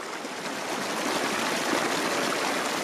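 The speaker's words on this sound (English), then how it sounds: "Fravert Basin, just below the waterfall." Mountain stream just below a waterfall in Fravert Basin, Colorado, a steady, full rush of flowing water, close and continuous with no other sounds.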